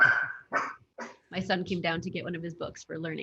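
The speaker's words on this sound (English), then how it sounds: "that's my dog in the background" Dog yapping in the background of an indoor call, a few short barks heard early before and between a man's speech, which continues over them.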